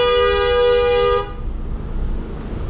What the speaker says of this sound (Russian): Он сигналит, когда там никого нет.